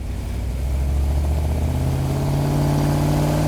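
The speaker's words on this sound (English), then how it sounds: "It's also kind of a cool shot because you can see that engine working down in there." Hemi engine of a restored Plymouth Cuda running as the car is driven, a loud steady low rumble whose pitch rises gradually as it pulls, close and with no voices over it.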